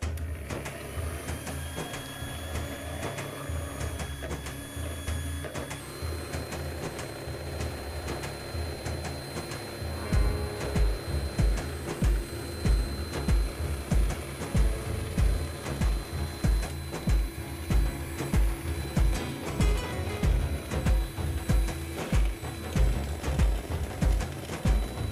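Electric mixer whipping eggs while sugar is added gradually for a cake, a continuous close motor whir with a rhythmic thumping beat that gets louder and steadier after about ten seconds, no talk.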